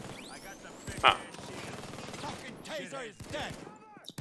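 Gunfire in Payday 2, a quick burst of shots with one sharp loud report early on, mixed with game mechanism clatter, and a player talking over it.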